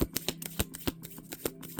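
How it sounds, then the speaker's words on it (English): Tarot cards being shuffled up close, a rapid series of papery slaps and riffles in an uneven rhythm, with no talking. "as I shuffle through the deck"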